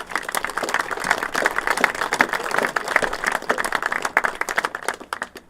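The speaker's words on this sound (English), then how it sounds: "Please give it a round of applause for the Olsen family for the hard work that they have all put into it." An outdoor audience applauds the Olsen family at a CCC statue unveiling and dedication in Salina, Utah, with steady, dense clapping that thins into scattered claps near the end.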